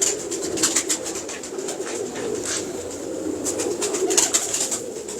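Pigeons coo steadily and close by, soft throaty calls layered with some brighter chirps over a constant low murmur, with no voices.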